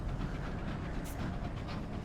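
Colonized Cantankery creature in the video game Sunless Sea: a steady rumbling, rattling mechanical drone, like clattering wheels on rails, with a brief higher hiss midway.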